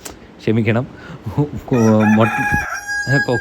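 Loud rooster-style crows ring out during a crowing contest on a chicken farm, with two long drawn calls and shorter bursts between. The low, voiced tone suggests a person imitating the rooster.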